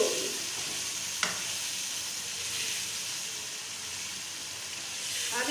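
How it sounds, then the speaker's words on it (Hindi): Mutton roasting with yogurt in a pot hisses and sizzles steadily, with an occasional sharp clink of the spoon and soft stirring, close up and without speech. "अब इसे अच्छी तरह भून ले लें।"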